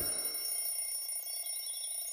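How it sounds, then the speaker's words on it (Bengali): An alarm clock rings at dawn, a thin, steady high-pitched electronic tone sounding continuously and fairly softly, alone in a quiet room. "ভোর 5টায় যথারীতি অ্যালার্ম বাজল।"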